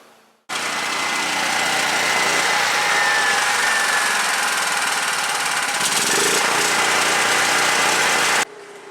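A Duramax generator engine runs steadily and loudly from start to finish, a constant mechanical drone with vibration that cuts in abruptly after a moment of quiet and stops just as suddenly near the end.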